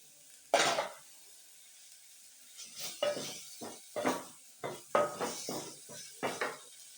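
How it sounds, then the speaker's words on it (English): A spoon scrapes and knocks around a pot of githeri with tomatoes, in a run of about a dozen short, close strokes after one louder opening clank, with no talk. "And then I continue to stir."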